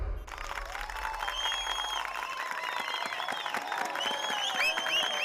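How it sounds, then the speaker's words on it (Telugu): Applause from a crowd in a Telugu film scene, a dense, steady wash of many hands clapping throughout, fairly close and full, with a low rumble fading out early on. "ఏదో అర్థమైనట్టే చప్పట్లు కొడుతున్నారు యదవులు."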